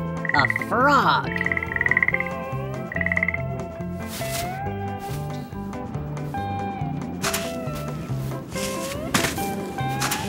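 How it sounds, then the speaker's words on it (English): A frog croaks in repeated loud, bright calls near the start, with a cartoonish musical backing carrying on beneath for the rest. "A frog."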